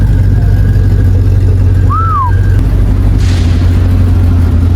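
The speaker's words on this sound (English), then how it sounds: "this car has a 6-liter V8 motor. Yo, just listen to the idle." A Chevy Lumina SS with a 6-litre V8 idles up close, a loud, steady low rumble that holds without revving, with a brief whistling chirp over it midway.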